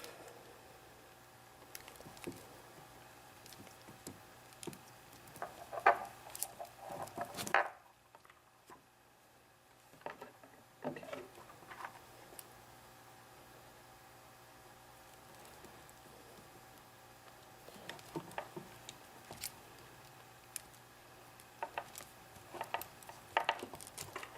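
Wire strippers click and snap close by as insulation is pulled off wires during battery wiring work, in sparse clusters of small mechanical clicks and rustles against a quiet background.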